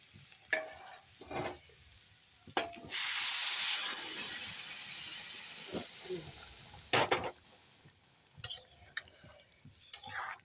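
Chickpea ghugni is stirred in a pan with the chickpeas' own boiling water, giving scraping and sizzling bursts with a steady hissing stretch midway, moderately loud and close, over faint background noise.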